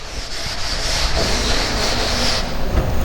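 Chalk rubbed off a classroom board during a physics lecture, a steady broadband scraping wipe lasting about three seconds with no talking over it.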